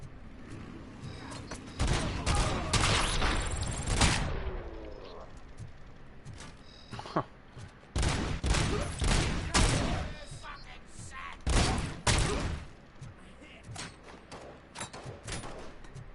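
Gunfire in a PS5 video game as a video rental store is shot out: bursts of loud, sharp shots and thuds that come in clusters separated by short pauses, with no talking over them.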